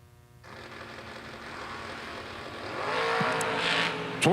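Drag racing cars, a Roadster and a Chevy 2, roar on the strip at a $250K race, a steady engine drone building to a louder high-revving launch near the end.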